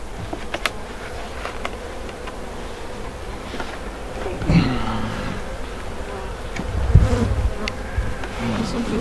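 Honeybees buzz steadily and close, a dense droning hum with occasional louder passes and light handling noises as a hive frame is brushed.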